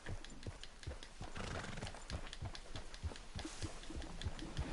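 Horse hooves in the video game Red Dead Redemption 2, a brisk, steady clip-clop of repeated close, distinct strikes, with a snort or whinny mixed in.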